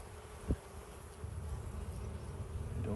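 Honey bees hum steadily at close range during a hive inspection, a continuous low buzz with one brief louder thump early on and a slight swell in the drone partway through.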